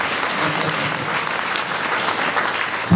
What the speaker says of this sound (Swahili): Tumchapie Yesu makofi.